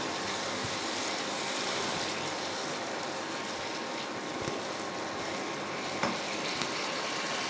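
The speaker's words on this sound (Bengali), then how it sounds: "এবারে একটু ভালো করে কষে নেব।" Potatoes and peas sizzle in a pan as they are sautéed and stirred, with a steady frying hiss and occasional soft clicks of a utensil against the pan.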